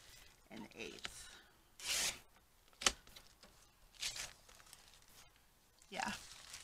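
Paper strips torn by hand for a rustic mushroom pocket craft project, several quick rasping rips spaced a second or so apart, close and fairly quiet with soft handling noise between.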